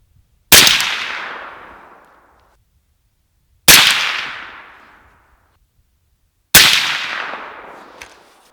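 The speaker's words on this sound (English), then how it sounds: "So here we go, 3 shots." Three sharp 300 Blackout rifle shots firing a 120gr Barnes TAC-TX supersonic hunting load, evenly spaced about three seconds apart, each loud crack trailing into a long decaying echo outdoors.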